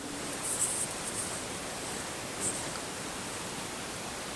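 A ghost communication device gives off steady, even white noise, a continuous broadband hiss with a faint high whine now and then, heard alone with no talking.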